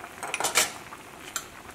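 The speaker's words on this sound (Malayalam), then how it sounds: "ഈ കറി ഒന്ന് ഇളക്കിയിട്ട് കൊടുക്കാം." A spoon clinks and scrapes against a pot while tomato curry is stirred, a few quick metallic taps close by and fairly quiet, with no voices.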